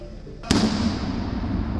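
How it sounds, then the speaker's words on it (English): A sudden sharp explosion bursts out, followed by a rumbling decay, heard over a voice in the background. "Explosions."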